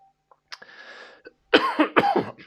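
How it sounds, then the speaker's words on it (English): A man with prostate cancer, after radiation treatment, gives a few short coughs and a throat clear, close by, followed by a burst of harsher, louder coughing. "Excuse me, still got a cough."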